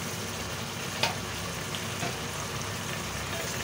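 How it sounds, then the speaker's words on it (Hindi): Ginger and garlic fry in a pan of hot oil for a masoor daal chicken dish, giving a steady, dense sizzle throughout with a couple of faint stirring taps. "अब हम इसमें अदरक लहसुन शामिल कर रहे हैं"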